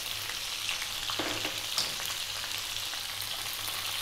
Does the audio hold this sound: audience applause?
no